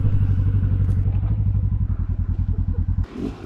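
A dirt bike chugs and revs steadily at close range on a rocky trail in the Hatfield McCoy Ivy Branch trail system, its engine pulsing rhythmically before dropping off into a brief clatter at the end.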